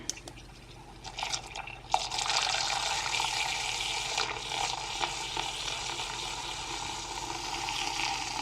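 A close, steady whirring hiss of liquid being frothed, with bubbly fizzing and a few faint clicks, continuing without talk.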